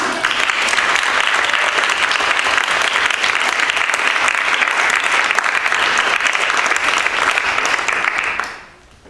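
Loud, sustained applause from a large audience at a late-night talk show, dense clapping filling the whole span at an even level before cutting off abruptly at the end.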